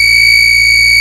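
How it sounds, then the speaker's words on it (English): Two electronic buzzers in a DIY emergency circuit sound together as one loud, unbroken high-pitched tone with bright harmonics, steady for the whole second and without talk. "Both buzzers are on."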